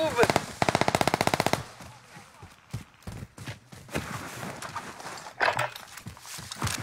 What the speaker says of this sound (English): you're giving us away with that loud ass gun